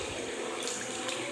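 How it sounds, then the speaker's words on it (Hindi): Water runs steadily from a wall-mounted bathroom tap into a vanity basin, a continuous close hissing splash with no talk over it. "पानी भी चल रहा"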